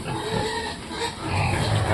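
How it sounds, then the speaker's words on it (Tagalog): Pigs being fed scoops of feed at evening feeding time, with grunts and snuffling mixed into a steady, close, noisy pen sound. "Kain sila mga pigi."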